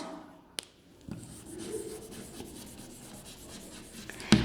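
Someone writing on a classroom board, a soft scratchy rubbing of strokes heard up close after a sharp tap, with a brief knock at the end and no speech.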